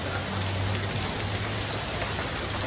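Heavy rain pours onto a flooded yard, a constant broadband hiss of falling water, steady and fairly loud with a faint low hum underneath and no voices.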